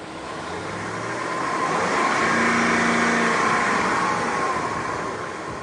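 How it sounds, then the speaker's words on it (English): A car engine runs and is revved in a vehicle offered at an insurance auction, a steady mid-pitched drone swelling to a stronger rev in the middle before settling back, close and alone with no voices. "the engine is running and the revving the engine"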